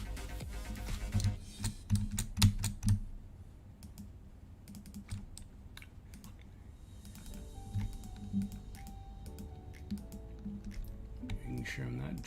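Clicking computer keyboard keystrokes in irregular bursts, close and fairly crisp, with a person talking quietly underneath.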